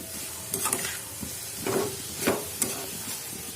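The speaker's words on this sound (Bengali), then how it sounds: "আবার এটা একটু ভেজে নিই" Carrots sizzling in a pan with bay leaves, with a few scraping stirs cutting through the steady frying hiss.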